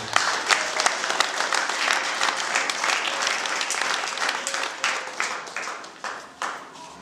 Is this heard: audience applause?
yes